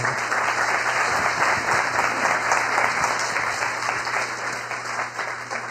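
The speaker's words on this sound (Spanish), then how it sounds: "Un aplauso, por favor" An auditorium audience applauds at a university panel on audiovisual production in Colombia, sustained dense clapping that stays loud and tapers slightly toward the end.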